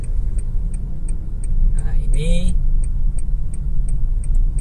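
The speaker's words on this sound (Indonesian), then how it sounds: "gigi S ini dia giginya membuat mesin meraung ya, membuat mesin meraung seperti itu" Honda Mobilio automatic car in S gear with the engine revving high, a low continuous rumble inside the cabin under a steady ticking and someone talking.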